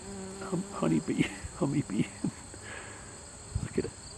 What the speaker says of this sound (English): There's the honeybee.